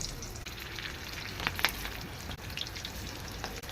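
Battered green chili fritters (mirchi bajji) drop into hot oil, setting off a steady close sizzle with a few sharper pops and crackles.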